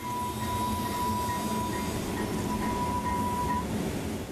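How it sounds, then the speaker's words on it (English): Passenger train rolling through Mount Royal, a steady loud rumble of wheels on rails with a sustained high whine, continuous and close throughout with no voices. "49 trains as loud as 80 decibels roll through Mount Royal"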